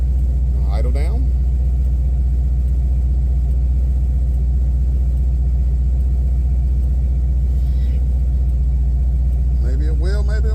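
A Chevy engine idles loudly and steadily with a deep continuous rumble, settling down from a higher idle, while a voice speaks briefly near the start and again near the end.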